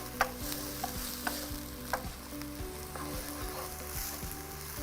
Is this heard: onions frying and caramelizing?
yes